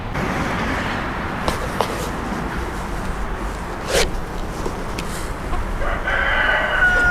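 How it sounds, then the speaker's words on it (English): Hens cluck and a one-eyed homestead rooster crows near the end, amid a busy outdoor backdrop of scattered chicken calls and brief sharp sounds. "there's the oddball few adult hens that have hopped the fence in there, and Mr. OG rooster"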